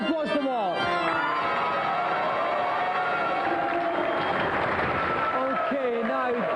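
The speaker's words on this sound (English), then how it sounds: "Round of applause to Mark." A TV game show studio audience cheers and applauds for a contestant, a dense wash of crowd noise filling the space, with a host's voice talking over it at the start and end.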